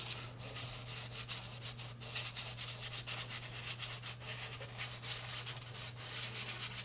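Soft pastels rub against sandpaper in a continuous, even scratchy grinding, with quick repeated strokes heard close up beneath a low steady hum.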